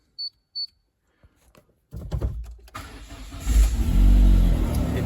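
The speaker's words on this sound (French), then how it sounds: "on s'aperçoit qu'il y a toujours un bruit de collecteur ou d'échappement percé" A 1995 Peugeot 806 with a leaking exhaust manifold: two short electronic beeps, a pause, then the engine cranks and starts, settling into a loud, rough idle with a throaty rumble up close.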